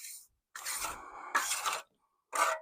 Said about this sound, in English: then just kind of smooth that over with the trowel so you get those little indentations